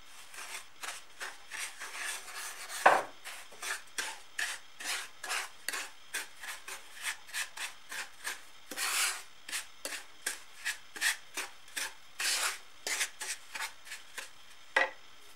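Breadcrumbs stirred as they toast in a pan, a run of rapid rasping scrapes in an even rhythm, close and fairly quiet, with no talk.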